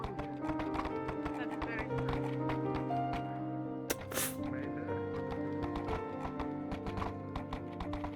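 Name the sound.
horse hooves in a video game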